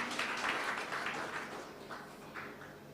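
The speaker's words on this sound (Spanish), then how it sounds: "Un aplauso fuerte al Señor." A church congregation at Sunday school claps in praise, a moderate burst of applause that gradually thins out over a few seconds.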